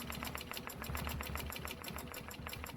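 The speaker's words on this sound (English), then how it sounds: "So I'm just going to go ahead and stitch these" Steady sewing machine stitching a stencil project in one direction, a fast, even mechanical whir with a regular rhythmic pulse, close and continuous throughout with no talk.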